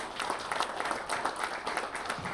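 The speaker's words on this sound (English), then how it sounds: "let's give a round of applause for Jay here." A fireside chat audience gives a short round of applause for a speaker, a steady patter of many hands clapping at moderate volume with no talking over it.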